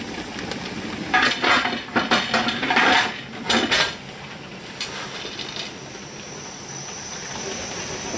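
A pressure canner full of beets boils with a steady hiss of steam, broken early on by a few sharp metallic clanks and rattles before settling into continuous hissing.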